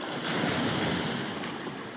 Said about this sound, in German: warte auf die richtige Welle